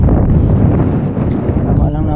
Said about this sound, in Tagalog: Lakas na ng hangin guys.